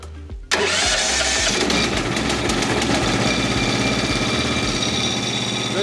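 The engine on a Frontier OS23 sawmill catches after a brief crank, then settles into a loud, steady idle with a regular low chugging pulse that runs on alone.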